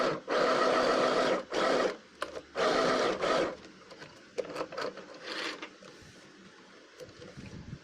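A sewing machine stitches fabric for a scrunchie in fast whirring runs, several sustained bursts at first, then lighter stop-start stitching and faint handling of the cloth.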